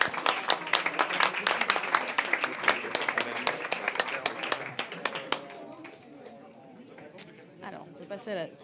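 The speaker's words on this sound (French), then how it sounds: "On peut les réapplaudir et vous applaudir aussi." An audience at a panel event on edtech and territories claps, sharp close individual hand claps in a fairly sparse rhythm that thin out after about five seconds, followed by talking.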